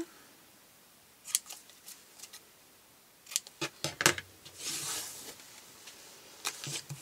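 Cardboard flap for a handmade two-drawer cardboard shelf being folded and bevel-cut: a series of crisp snips and crinkles, with a longer papery rustle partway through, close and moderately loud with no talk.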